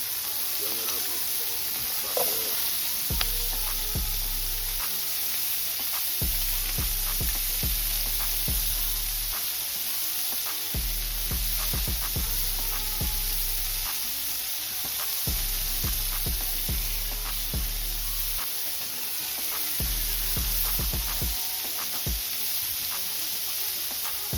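Roughly chopped onions, carrots, celery and garlic frying in a pan, a constant close sizzle and hiss with frequent sharp stirring clicks and scrapes over a low intermittent hum.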